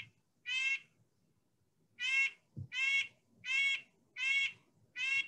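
A series of six nasal, tinny red-breasted nuthatch calls, evenly spaced and clear against near silence, like a small horn tooting repeatedly.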